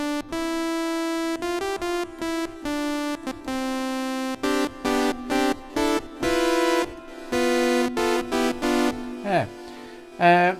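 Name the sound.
synthesizer sawtooth wave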